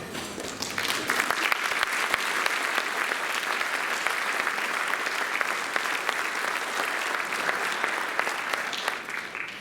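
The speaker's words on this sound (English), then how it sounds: "we're going to give you guys a round of applause" A school band concert audience applauds steadily for nearly ten seconds, a dense, even wash of many hands clapping, loud and sustained, with faint voices mixed in.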